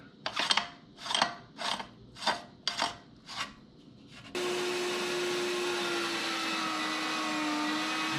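Meat grinder with a fine-hole plate working wild hog meat for sausage: six rhythmic rasping strokes first, then a steady continuous motor whir with a constant hum.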